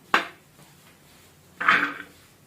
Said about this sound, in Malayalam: അപ്പോൾ അതാദ്യം നമുക്കൊന്ന് കുക്കറിലോട്ട് ഇട്ട് കൊടുക്കാം